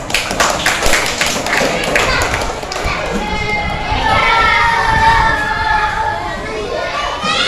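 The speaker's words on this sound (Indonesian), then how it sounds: "Kita berikan tepuk tangan untuk kelompok 3. Kita beri tepuk tangan." Schoolchildren in a classroom clap for a student group, a dense burst of hand claps mixed with shouting and excited children's voices, close and loud throughout.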